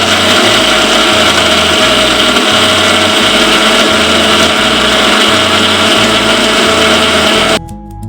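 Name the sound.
mixer grinder blending soaked ragi and coconut with water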